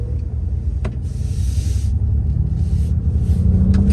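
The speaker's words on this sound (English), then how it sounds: "taking the Lightning on a drive" Ford F-150 Lightning electric pickup truck driving, heard as a steady low road rumble and tire drone from inside the cab, with a few brief higher whooshes and clicks over the constant hum.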